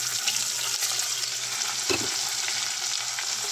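Dried tuyo fish frying in hot oil: a steady, close sizzle with a brief clunk or scrape partway through.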